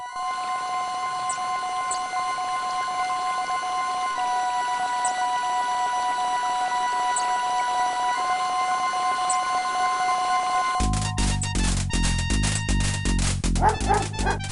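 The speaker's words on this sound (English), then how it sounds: "A bully of a dog terrorizes the poor ants as he playfully digs at their large anthill." Dog barking and digging at a large anthill in the 1990 DOS game King's Quest V: steady synthesized game music plays throughout, then a loud, blocky burst of digital bark and scratching effects takes over for the last few seconds.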